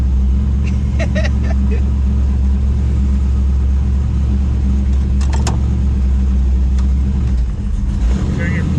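A truck engine on a dyno run holds a loud, steady, low rumble throughout, with brief voices and a few faint knocks over it.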